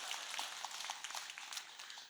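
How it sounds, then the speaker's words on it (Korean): A crowd at a Buddhist dharma talk at Jogyesa temple claps steadily, a dense wash of many hands applauding together at moderate volume. "그럴 때는 박수 치는 거예요."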